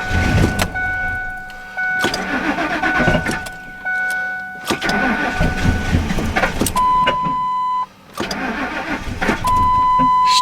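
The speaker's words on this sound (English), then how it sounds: "Starter freezes in my plow truck." A plow truck's starter cranks in several separate attempts, with bursts of engine noise, steady electronic chimes and short pauses between tries, before the motor catches and settles into running.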